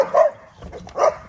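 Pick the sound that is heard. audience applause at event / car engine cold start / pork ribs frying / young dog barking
young dog barking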